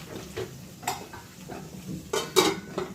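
Onion and tomato with salt being fried and stirred in a pan, with scattered short scraping and clinking of a utensil against the metal over a quiet sizzling base, no talk.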